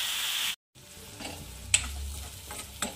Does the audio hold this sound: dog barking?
no